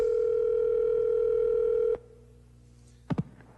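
A steady telephone dial tone hums loudly for about two seconds, then cuts off, leaving quiet line hiss before two quick dialing beeps as a call is placed to a 1985 FM radio station listener.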